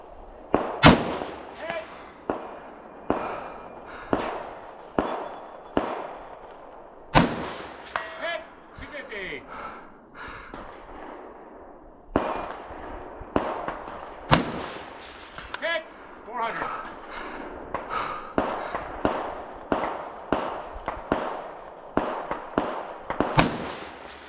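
Repeated rifle shots from a Springfield Hellion bullpup during a shooting match stage, sharp loud cracks fired at a steady deliberate pace, some closer together, with brief voices and range noise between them.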